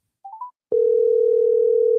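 A telephone handset plays a few short rising beeps, then a steady, loud, continuous dial tone hums on alone.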